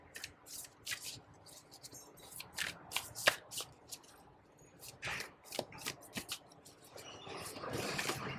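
A tarot card deck is shuffled repeatedly in quick, crisp riffling bursts, close and quiet, with no talking.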